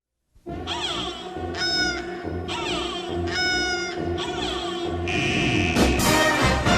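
Repeated harsh, raspy macaw squawks in bursts at a zoo, loud and close, over a steady low hum, with a brief high shriek near the end.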